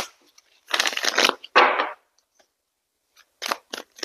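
Tarot cards being shuffled by hand, crisp riffling bursts that come in short loud runs, then a pause and a few quicker flicks, close and dry with no talking.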